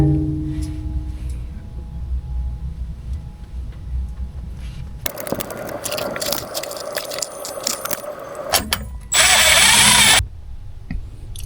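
Quiet shop background, then a close power tool whirs in several bursts while tightening differential cover bolts on a truck, ending with a short loud high-pitched run.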